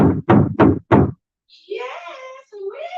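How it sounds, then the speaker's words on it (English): Four heavy, evenly spaced bangs on a door ring out during a live onstage storytelling performance, followed after a brief pause by a drawn-out, moaning voice. "he was right there, banging on the door"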